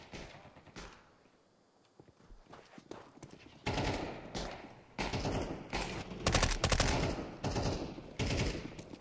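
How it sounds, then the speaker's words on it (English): Gunfire in the video game Counter-Strike 2 arrives in rapid, dense bursts that grow louder and busier halfway through, with clattering shots packed close together and short gaps between volleys. "Trying to get used to the shooting again."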